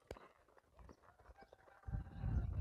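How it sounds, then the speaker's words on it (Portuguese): Horse hooves clopping on the ground as the horse is led into a training circle, a few soft irregular steps that build into louder, denser footfalls near the end. "Então agora meu cavalo vem para o círculo."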